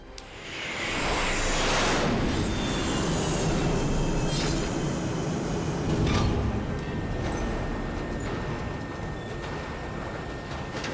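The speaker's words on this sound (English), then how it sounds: "Incoming aircraft entering Bravo airspace." An incoming aircraft swelling in from quiet to a loud, sustained roar within a couple of seconds, then holding a broad rushing drone with faint tonal whines, and no voices.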